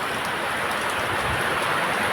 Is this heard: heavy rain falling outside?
yes